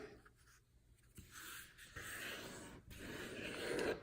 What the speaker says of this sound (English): we're going to fold it in half